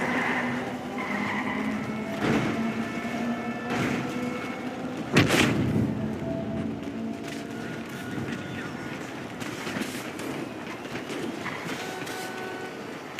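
Gunfire in the GTA Grand RP video game comes as a few sharp shots and booming bangs against a busy rumble of game noise, with people talking excitedly throughout.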